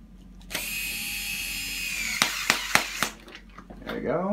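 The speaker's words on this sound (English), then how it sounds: "And we'll put the screw through, and I have the nut here that's going to just slot in underneath." Power tool driving a screw through to a nut: a loud sustained whirring whine for about two seconds, then several sharp clicks and a brief rising whir at the end.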